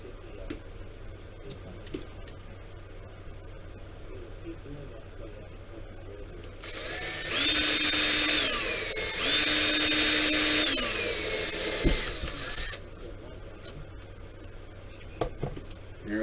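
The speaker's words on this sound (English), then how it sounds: "And we just got to drill 3 more." A small power drill bores holes in a plastic Monogram Battlestar Galactica Cylon Basestar model kit, a high whine rising in pitch, running about six seconds with a brief dip midway, amid quiet handling sounds.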